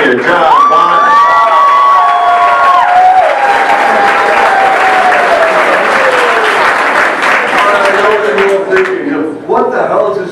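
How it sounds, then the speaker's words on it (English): Audience at a contest final applauding and cheering loudly for a senior performer, sustained clapping with whoops and shouts, a voice speaking over the crowd near the start. "Keep that applause going for the silver senior, John Bond."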